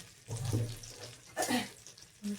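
Tap water runs steadily while salad vegetables are rinsed under it in a home kitchen, with a couple of brief louder splashes as the vegetables are handled.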